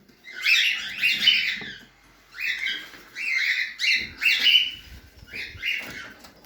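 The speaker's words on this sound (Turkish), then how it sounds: "Bakın arkadaşlar burada daha kuşlarımız var." Cockatiels (sultan parrots) in a breeding aviary give bursts of shrill squawks and chirps in uneven clusters, fairly close, with short quiet gaps between calls.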